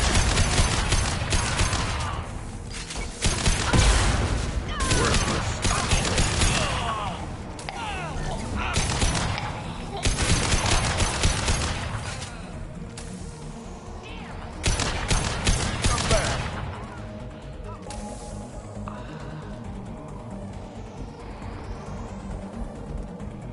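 Heavy gunfire from the Mass Effect 2 video game, dense rapid bursts of automatic weapon fire in repeated waves, loud and close, with voices calling out amid the shooting and a thinner tail toward the end.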